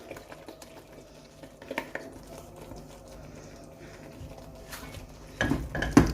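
Red pasta sauce with chili flakes and cream being stirred in a pan, soft scrapes and clinks of the utensil against the cookware, quiet at first and then louder, closer scraping near the end.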